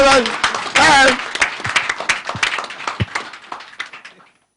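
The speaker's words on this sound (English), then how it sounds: "all of us, hey, make we clap for our own." A gathering of people clapps hands together in a loose burst, starting with a strong swell and then thinning into scattered, uneven claps that fade out; speech overlaps the start.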